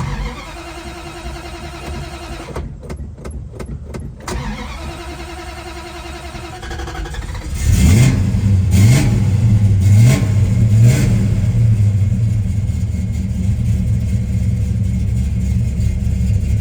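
A 1970 Dodge Coronet Super Bee engine cranks with a stuttering starter, catches with a loud roar, then rises through several sharp revs before settling into a cold, rumbling idle.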